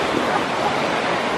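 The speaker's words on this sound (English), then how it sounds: "But be careful because the waves could hit here." High-tide sea waves wash against a beach promenade in a steady, close roar of surf, mixed with gusty wind noise and no voices.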